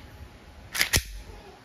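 WE airsoft Glock 18C Gen 3 pistol firing two quick sharp snapping shots close by, a fraction of a second apart, with no talk.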